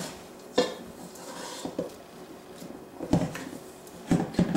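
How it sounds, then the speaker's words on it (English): A spatula scrapes down the sides of a stand mixer bowl holding whole wheat bread dough, making intermittent clinks and rasping scrapes up close with short pauses between strokes. "So we need to go ahead and scrape down these sides."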